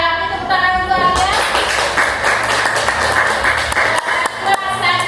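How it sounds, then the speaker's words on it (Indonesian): A group of classmates claps for the third-place winner of a school inspirational-story contest, brisk scattered clapping building into a steady round of applause with faint voices under it. "Yang itu tepuk tangan dulu Alia"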